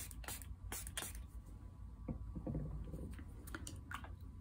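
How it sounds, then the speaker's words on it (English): A hand spray bottle mists water onto a watercolor painting, several quick soft hisses, some in short bursts, faint and close in a quiet room. "Let's spray."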